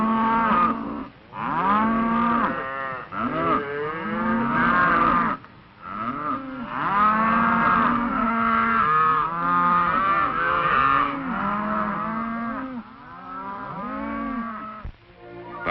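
Cattle mooing loudly and almost without pause, a cow calling for her calf among the herd, with long drawn-out lowing calls that overlap and follow one another close by.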